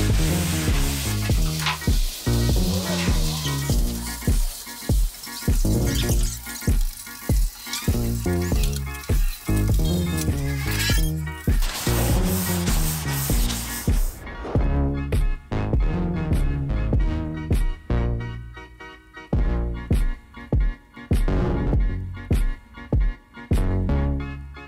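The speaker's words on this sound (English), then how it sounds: "all I can do is sand the box" Sanding a truck box on a 2005 Chevrolet Silverado by hand with 320-grit sandpaper, a steady close rasping rub in quick back-and-forth strokes that continues throughout with brief pauses.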